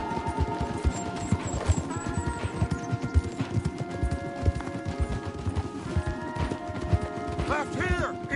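Horses galloping hard in Red Dead Redemption, rapid rhythmic clip-clop hoofbeats close and continuous, with a low rumble, a brief whinny near the end and some voices in the mix.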